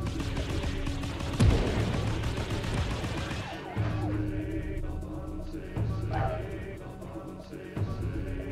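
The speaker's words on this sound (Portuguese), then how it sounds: "Esse tiro laranja é muito bom." Weapon fire from an orange shot in the Small Soldiers video game on PS1: a sharp blast near the start, then repeated punchy shots at intervals over busy game sound.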